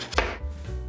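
An onion being chopped on a board, a few quick knife strikes near the start followed by a low steady kitchen rumble, close and moderately loud with no talking.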